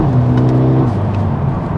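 A car's engine revs through its standard factory exhaust, giving a loud, close, rising and then steady drone over about two seconds, with no voices.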